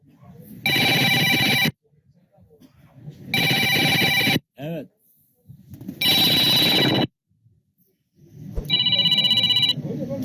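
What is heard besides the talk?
telephone ringing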